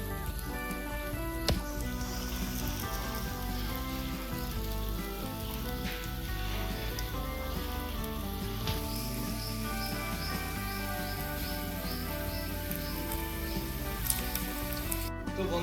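Lentil dumplings for dahi vada deep-fry in oil over a medium flame, making a steady, soft sizzle that runs throughout beneath tonal background music.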